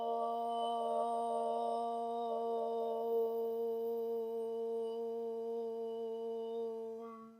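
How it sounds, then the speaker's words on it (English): A single sustained chant of Om closes a yoga practice: one long, steady, harmonic hum held for several seconds, fading out gently at the end. "closing out our practice and sealing it with one chant of Om"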